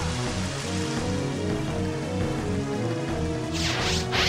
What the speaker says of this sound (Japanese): と激しい雨が降り始めました